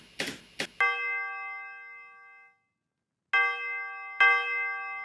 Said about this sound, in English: And then here I have the bells.